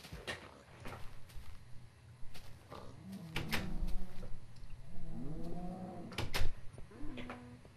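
Cows mooing in Minecraft: two drawn-out, low moos rise and fall in the middle of the clip, moderately close, over a soft steady game background with scattered clicks and knocks.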